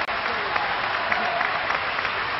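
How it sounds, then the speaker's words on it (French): Audience applause after a drawn match, a dense, sustained clapping from a crowd that stays even in level throughout. "On les applaudit bien fort."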